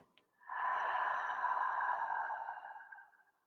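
A long, breathy exhale through an open mouth, a soft rushing hiss lasting about three seconds, close and alone.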